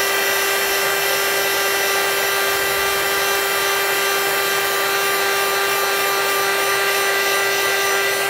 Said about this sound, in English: That's a nice example of heat embossing there.